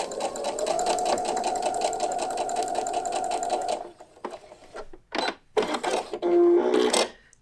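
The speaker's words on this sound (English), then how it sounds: "So we're sewing up this short side." A sewing machine runs steadily, stitching along the short side of a fabric piece with a fast rhythmic whirr, then stops and gives a few short bursts of stitching with pauses between.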